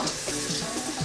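Tomato dropped into a hot pan for a Senegalese-style seafood paella, giving a steady, close frying sizzle with light crackle and stirring, no talk.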